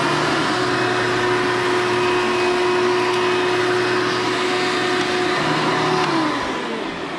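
A Hoover Elite vacuum cleaner runs at a loud, steady motor whine for several seconds, then begins winding down toward the end, with no talking.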